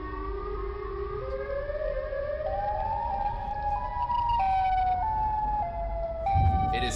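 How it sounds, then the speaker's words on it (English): A monster's sirens wail with an emergency-broadcast tone, a rising, stepping electronic siren that climbs and holds at a steady pitch, loud and continuous over a low rumble. "a pole leading up to two sirens lined with teeth, emitting sounds one would hear in an emergency broadcast"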